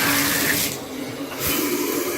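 Water gushes loudly and steadily from a bathtub spout during a shower repair, a close continuous rush with a short dip in the middle before it surges again.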